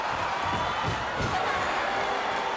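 A wrestling arena crowd cheers in approval at a 1987 WWF Prime Time Wrestling match, a broad, fairly distant roar of voices that swells and holds steady.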